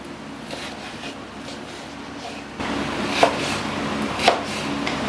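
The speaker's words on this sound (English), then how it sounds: "We'll go ahead to cut this into tiny bits as usual." A knife chops raw chicken into tiny diced bits on a board, a soft steady run of close cuts that grows louder halfway through, with two sharper knocks standing out near the end.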